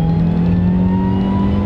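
Supercharged Honda CR-Z hybrid with a stock exhaust accelerating in economy mode, a steady, loud engine drone with a tone that climbs throughout, heard from close by with no talking.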